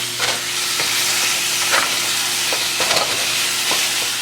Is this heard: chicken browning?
yes